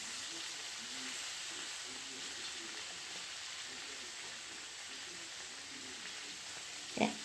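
Chicken pieces frying in a pan after being turned over, a continuous close sizzling hiss with faint crackles throughout and a short clatter near the end.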